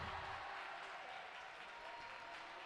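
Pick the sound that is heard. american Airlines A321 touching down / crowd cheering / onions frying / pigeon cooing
crowd cheering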